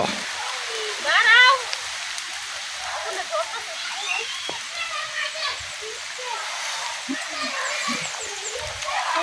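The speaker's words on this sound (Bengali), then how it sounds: "এখান থেকে বৃষ্টি পড়তেছে" Heavy rain falls steadily over a village as a broad, constant hiss, with a brief louder gust of splashing near the start and faint scattered voices and bird chirps beneath.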